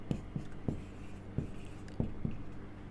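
Chalk or marker writing on a board during a maths lesson, with a handful of short, separate scratchy strokes spaced unevenly against a quiet room.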